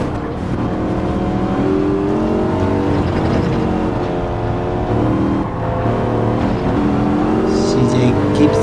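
An AMG race car accelerates hard out of a corner during a championship race at Suzuka, engine rising through the revs and shifting gears in repeated climbing sweeps, loud and close, with a second car running nearby.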